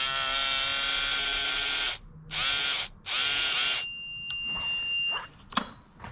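A small DC fuel pump from a Volvo 240, freshly unseized and hooked to power, whirs with a steady high-pitched electric whine in three close, loud bursts, followed by quieter clicks and handling noises.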